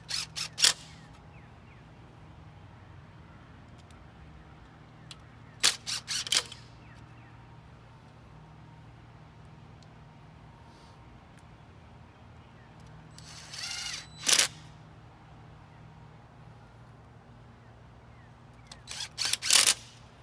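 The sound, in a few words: screws being driven in to secure a wooden trellis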